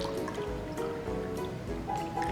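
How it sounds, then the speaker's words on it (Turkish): Water poured slowly into a bowl already holding flour and salt for a salt-ceramic dough, a steady close trickle with soft drips and liquid splashes, no talking. "Şimdi su da dökeceğim."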